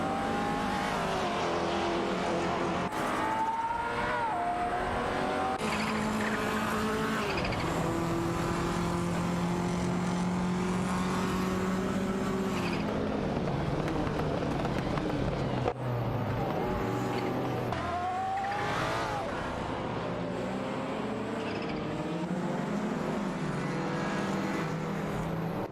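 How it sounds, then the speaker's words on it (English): Racing cars in an AI-driven career mode racing game roar past one another, engine notes rising and falling in pitch as they jostle for position and overtake, a continuous loud blend of several motors with no one talking. "Bot X Ragnarok has made a move as well, sliding into pen after overtaking Bot Arma Pinkwolf"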